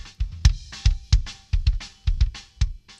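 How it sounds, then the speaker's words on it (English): Kick drum microphone with its noise gate switched off, picking up steady snare drum hits and faint cymbal bleed around the kick; a close, punchy, evenly spaced pattern of drum strikes with no talking. "You hear quite a lot of snare drum."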